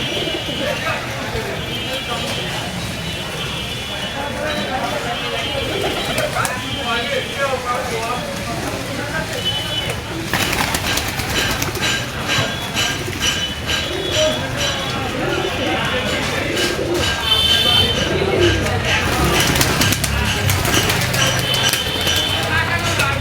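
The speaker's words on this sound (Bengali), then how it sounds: "সবগুলো কবুতর খুব অ্যাক্টিভ" Pigeons gather at a morning feeding, cooing and fluttering close by under a dense, rustling bed of movement and scattered pecking, with a person's voice heard now and then.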